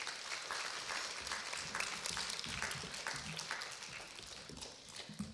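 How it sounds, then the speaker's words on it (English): A crowd applauds continuously at an elementary school chapel, a dense, faint patter of many hands clapping at once, steady throughout without a clear start or end. "Let's give all these friends a round of applause"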